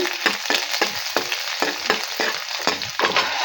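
Garlic and mustard seeds frying in hot oil, a loud close sizzle broken by rhythmic stirring scrapes roughly every half second, with crackling spits throughout.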